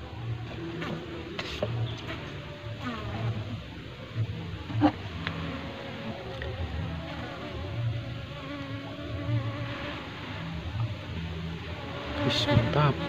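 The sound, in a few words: honey bees buzzing around a beehive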